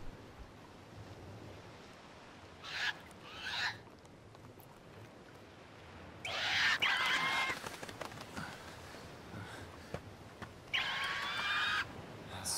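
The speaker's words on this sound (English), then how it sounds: "Stupid birds. Get them away." Birds in Prince of Persia: Warrior Within give out loud, honking squawks in three separate bursts, each a second or so long, over a low steady rush of wind and surf.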